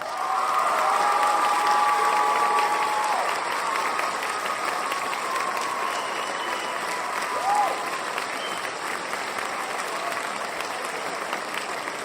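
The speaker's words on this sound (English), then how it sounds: "A round of applause, please." Sustained audience applause with some crowd noise and cheering at an evening presentation, a broad wash of clapping that holds steady throughout.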